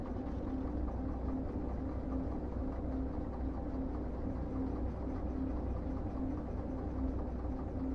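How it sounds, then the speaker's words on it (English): A heavy freight train moves in the video game Derail Valley, giving a steady, moderate low engine drone and rumble with an unbroken hum and no voices. "Oh man, it's a heavy train."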